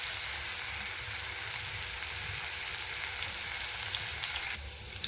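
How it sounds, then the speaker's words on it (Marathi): Cumin and mustard seeds crackle and sizzle in hot oil for a tempering, a dense continuous hiss with scattered pops that stops abruptly near the end. "तर चला आता आपण याच्यामध्ये जिरा आणि मोहरी टाकून घेऊया"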